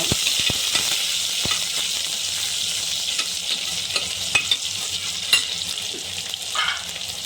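Chopped onions with a pinch of salt sizzle steadily in a hot pan, with scattered scraping clicks from stirring throughout; close and continuous, no talking.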